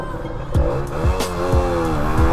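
An Aprilia RS4 50 motorcycle with an Akrapovic exhaust fires after a push start on a hill, its small engine buzzing and revving unevenly up close with rising and falling pitch and a few sharp bursts.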